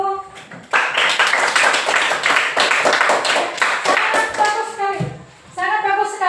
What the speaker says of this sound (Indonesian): Untuk kelompok 1 kita beri tepuk tangan dulu.